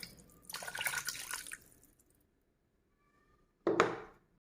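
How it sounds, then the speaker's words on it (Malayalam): Water and meat broth poured into a pressure cooker for erachi choru, a longer splashing pour followed after a pause by a short second splash, close and fairly quiet. "ഇത് ഈ കുക്കറിനകത്തോട്ട് തന്നെ നമുക്കൊന്ന് ഒഴിച്ചേക്കാം."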